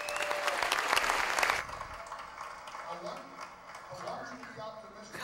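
A radio-show audience at a birthday party bursts into applause, a dense crowd of clapping for about a second and a half that then cuts off to quieter room sound.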